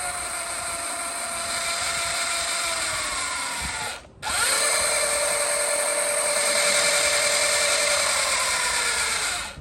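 Rear wheel of a 2023 Surron Light Bee X electric dirt bike fitted with a Torp TC500 controller, spinning on a stand in sport mode: a loud, steady high-pitched motor whine that drops out briefly and then winds back up, with no talking.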